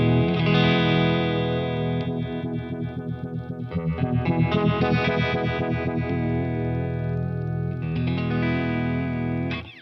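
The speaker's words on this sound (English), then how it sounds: "I wonder if I set one up as vibrato and one up as chorus / rotary, if it will actually ramp between them." Electric guitar run through a Kingtone Vibe 1968 pedal, set up so it ramps between vibrato and chorus/rotary modes, giving a steady, continuously sustained effected tone with a wavering, swirling modulation and no talking.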